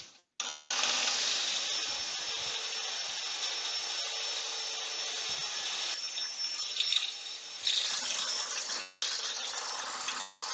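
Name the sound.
shop vac attached to a sander running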